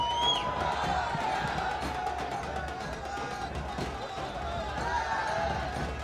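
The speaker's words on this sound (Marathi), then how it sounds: "टीम इंडिया जिंकल्यानंतर क्रिकेट प्रेमींचा हा उत्साह जल्लोष पाहायला मिळतो आहे" Cricket fans celebrate India's T20 World Cup win over England with a steady roar of crowd cheering, whoops and whistles, a dense festive din with a voice speaking over it.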